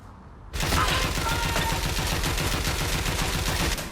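Sustained gunfire in the video game Watch Dogs Legion, a dense rapid volley of shots that starts abruptly and continues loud and steady for several seconds.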